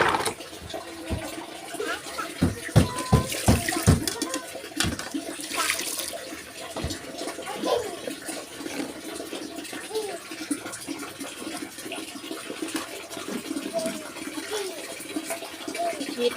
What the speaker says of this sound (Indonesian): Kita cuci dulu piringnya.